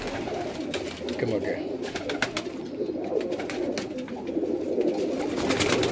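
Pigeons coo softly outdoors in hot weather in Multan, low murmuring calls under someone speaking nearby.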